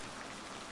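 Rain falls steadily in a quiet visual novel scene, a soft, even hiss of drops with no other sounds over a very short stretch.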